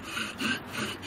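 A wooden bow drill spins on a wooden hearth board for friction fire making, producing a steady rhythmic rubbing rasp that swells and fades with each back-and-forth stroke, close and fairly quiet.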